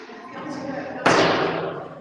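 A heavy cell door slams shut with a single loud, sharp bang that rings out for about a second, following a quieter stretch of room tone.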